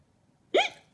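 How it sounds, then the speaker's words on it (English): A single short hiccup sounds close and clear against a quiet background. "Oh no! You have the hiccups!"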